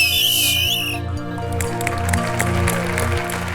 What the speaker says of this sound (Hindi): इनके लिए सबकी तरफ से एक सीटी तो बनती है